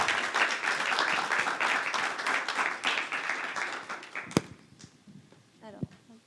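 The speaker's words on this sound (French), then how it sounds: "je demande un tonnerre d'applaudissements" Audience applause in a hall at a regional sales-excellence competition final as a two-person student team comes on stage; dense clapping fills the first four seconds, then fades into scattered claps and murmurs.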